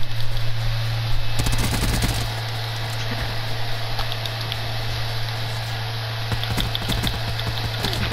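Video game gunfire: a dense burst of rapid automatic shots up close, then sparse scattered single shots over a steady low hum.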